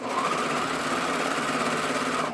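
A sewing machine sews stretched elastic onto a knit skirt, its motor and needle producing a loud, even, unbroken hum up close with no talking.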